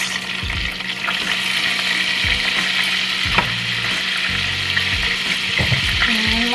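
Butter melting in a pan on the stove, a close, loud, continuous sizzle and crackle with occasional clinks and scrapes of a utensil stirring through it.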